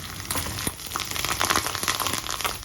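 Mustard seeds, slit green chillies and curry leaves crackle and sizzle in hot oil for a khaman dhokla tempering, a steady close spitting fry with sharp pops throughout and no voices.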